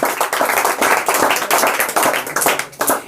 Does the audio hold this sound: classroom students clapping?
yes